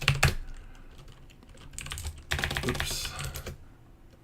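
Fast typing on a computer keyboard, close and fairly quiet, in short uneven bursts of keystrokes with brief pauses between them; a voice speaks once.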